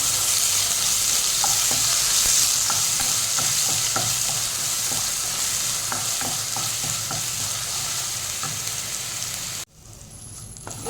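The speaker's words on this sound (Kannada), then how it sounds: "ಶುಂಠಿ ಬೆಳ್ಳುಳ್ಳಿ ಪೇಸ್ಟ್ ಚೆನ್ನಾಗಿ ಫ್ರೈ ಮಾಡ್ಕೊಳ್ಬೇಕು" Ginger garlic paste frying in a pan for egg chilli, a loud, dense sizzle with scattered crackles and occasional stirring scrapes, steady for most of the stretch before the sizzle abruptly drops to a quieter hiss near the end.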